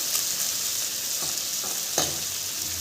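Dried anchovies (nethili karuvadu) crisping in oil over a low flame, a steady bright sizzle broken by a few soft scraping stirs, close and with no talking.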